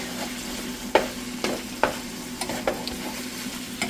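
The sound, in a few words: pork frying in a pan for an egg roll bowl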